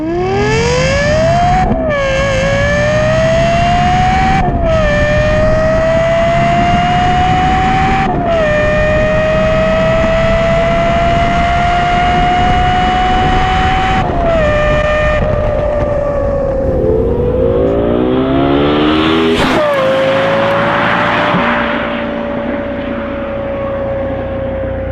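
A Lexus LFA supercar's high-revving V10, built with Yamaha and making 553 horsepower, screams loudly and close through repeated rising gear pulls, each climb cut by a brief shift, before easing off and revving again.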